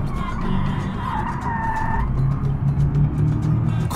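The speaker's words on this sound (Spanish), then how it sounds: "¡Cómo chillan las gomas!" Car tires squealing as the car skids in the video game BeamNG, a loud, wavering screech over a steady engine drone that shifts into a lower rumble as the slide continues.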